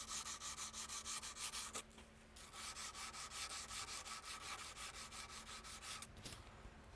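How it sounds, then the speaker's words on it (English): Cross pieces on metalwork are buffed down on a spinning wheel, giving a loud, rhythmic scrubbing whirr that pulses evenly with a short break partway through, with no talk over it. "Start buffing off those cross pieces."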